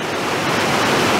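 Rushing flow of a large river at Þingvellir, a dense, loud, steady broadband wash of water close by with no voices.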